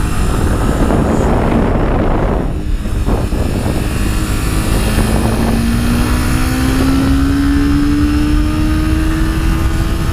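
A Honda CBR300R 300cc motorcycle engine revs high on a test ride, a loud buzzy drone climbing steadily in pitch over wind rush, close and continuous.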